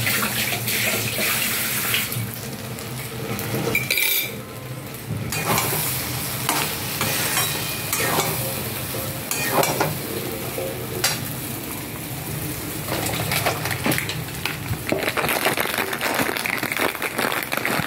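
A curry sizzles steadily in the pan while kasuri methi is stirred in, with continuous frying crackle and scraping stir sounds throughout, close and without talk.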